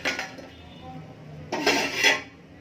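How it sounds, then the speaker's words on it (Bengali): A metal lid comes off a cooking pot on the stove with a couple of clanking, scraping clinks of metal on metal, close and moderately loud over a faint background hiss. "তাহলে চলো এখন একবার ঢাকনাটা উঠিয়ে দেখি হয়েছে"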